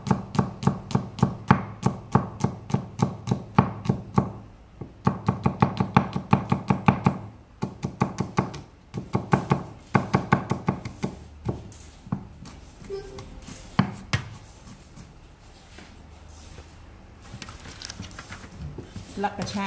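A knife chops garlic on a cutting board for cucumber kimchi in quick, evenly spaced knocks with brief pauses between runs, while a person talks over the chopping.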